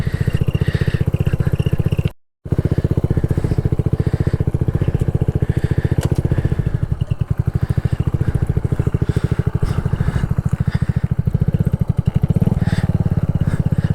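A motorcycle engine runs steadily and loudly in first gear as the bike is walked uphill, a continuous close chugging drone with one brief dropout.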